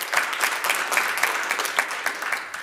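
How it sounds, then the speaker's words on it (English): A conference audience at an open source event applauds after a talk, with dense, irregular clapping from many people that runs steadily and begins to thin toward the end. "Let's give Martin a round of applause first, and then hopefully we'll find some questions."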